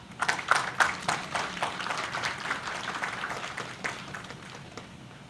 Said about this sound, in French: Ok, bon petit applaudissement,